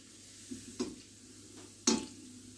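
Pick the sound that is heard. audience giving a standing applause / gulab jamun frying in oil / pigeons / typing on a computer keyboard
gulab jamun frying in oil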